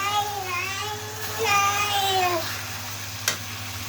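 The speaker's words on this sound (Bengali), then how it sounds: "আর একটু আদা বাটা দিয়ে দিছি, দিয়ে এখন সুন্দর করে কষিয়ে নেব" Onion and ginger paste fry in a pan with a low, steady sizzle, while a voice rises over it and a light clink sounds near the end.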